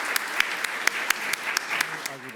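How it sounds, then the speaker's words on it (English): Audience members at a maritime forum in New York clap for the analyst panelists, with sharp individual claps standing out over a softer bed of applause and a voice speaking near the end. "give a round of applause to the panelists"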